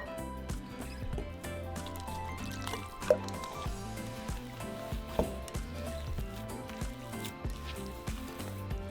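Warm water is poured slowly into flour and oil and worked into empanada dough, giving close, soft wet squelches and drips in an uneven, rhythmic pattern at low volume.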